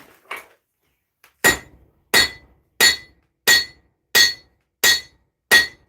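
Hammer blows ring sharply on a steel blade being beveled for a miniature Zangetsu sword, seven evenly spaced, loud metallic strikes after one lighter tap, each with a bright clanging decay and brief silence between.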